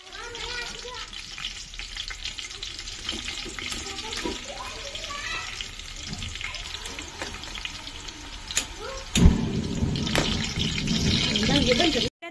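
Onion and green chillies frying in hot oil for chicken gravy, a steady sizzle throughout with occasional stirring, growing louder and denser near the end, with voices talking over it.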